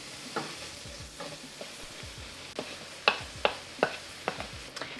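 Butter going into sautéing onion in a pan, a steady low sizzle broken by a run of sharp clicks and taps from a utensil against the pan in the second half.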